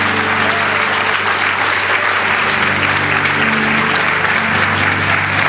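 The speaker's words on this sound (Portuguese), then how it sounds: "pode aplaudir ao Senhor Jesus" A church congregation applauding during a sermon, loud sustained clapping from many hands with a low hum of crowd noise beneath, continuous from start to finish.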